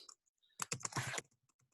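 A computer keyboard is typed on in a quick close burst of clicking keystrokes while entering a YouTube search, with a few scattered key taps before and after.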